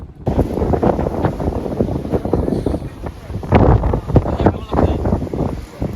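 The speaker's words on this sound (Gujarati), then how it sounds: "પવન ખૂબ જ છે ઘડી ઘડી વરસાદ આવી રહ્યો છે" Strong wind buffets the microphone with loud, gusting rumbles that rise and fall throughout, near the sea on Girnar during intermittent rain.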